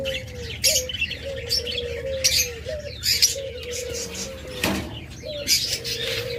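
Pet lovebirds or cockatiels kept as a pair for sale give close, repeated short calls at a steady pace, mixed with bursts of higher chirps and twitters.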